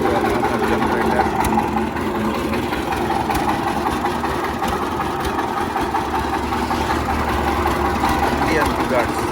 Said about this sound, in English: Connected to a normal generator.